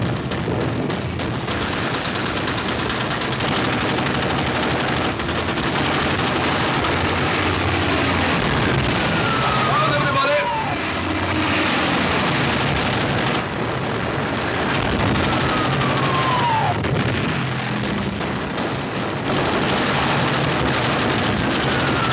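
Ship's guns fire during a naval battle in a 1942 war film, dense bursts of gunfire and rapid machine-gun rattle over a continuous roar, loud and sustained without a break.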